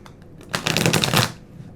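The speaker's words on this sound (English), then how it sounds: "All right, one more shuffle." A deck of tarot cards is shuffled once, a close, crisp riffling burst lasting under a second, with quiet surroundings before and after.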